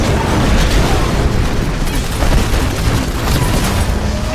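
A Titan's core reactor overloads and detonates in the video game Titanfall, a loud, sustained booming roar of explosion and rumble that fills the whole moment without letup, with no talk over it.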